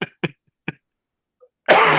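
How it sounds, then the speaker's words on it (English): Three quick, close coughs in succession from a person at a holiday-season theme park party, followed after a short pause by a burst of loud noise. "biggest cough."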